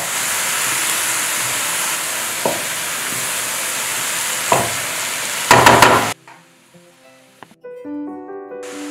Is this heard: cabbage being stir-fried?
yes